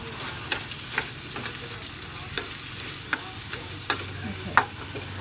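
Garlic sautéing in a pan for a home dinner, a soft continuous sizzle broken by light, irregular clicks and taps of a utensil against the pan.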